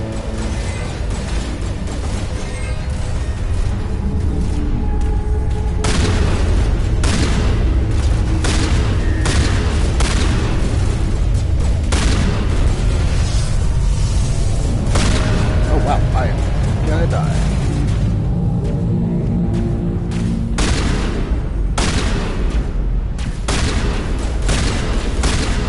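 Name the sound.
gunfire and explosions in the video game Mass Effect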